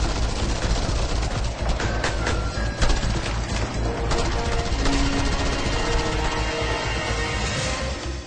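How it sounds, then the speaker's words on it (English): Gunfire in Just Cause 2, a dense, continuous barrage of shots layered over loud, busy game action with no pauses, holding steady at close range throughout. "pull out your guns and start firing at them"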